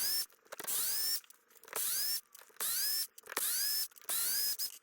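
A low-torque power driver whirs in five short bursts with brief pauses between, removing hex head bolts from the wheel of an Axial SCX6 RC car; the sound is close and fairly quiet, with no talking.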